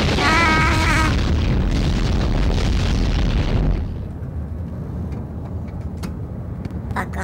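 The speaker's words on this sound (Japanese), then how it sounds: "爆発してしまいました。" A loud video game explosion booms for about four seconds, heavy and sustained, then drops into a quieter rumbling tail with small crackles and pops.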